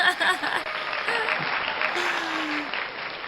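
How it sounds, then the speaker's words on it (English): Audience at a live talent showcase applauding briefly after a song, a short burst of clapping with some whoops that tapers off. "I gotta hit the applause button for that one."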